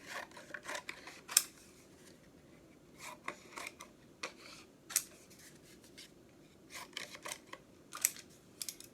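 Scissors fuzzy-cut around a paper penguin, quiet close-up snips and paper rustles coming in short irregular bursts with brief pauses between them.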